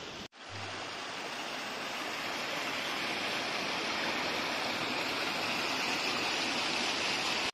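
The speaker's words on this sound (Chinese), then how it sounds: "小溪流水" A flowing stream in a primeval forest with bamboo rushes steadily and loudly nearby, a constant broadband wash of water that starts abruptly and holds even throughout.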